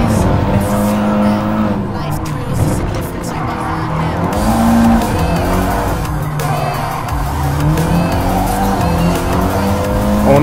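Race cars in the Gran Turismo video game, loud engines revving and shifting continuously while tires squeal and skid through corners, with a faint crowd behind.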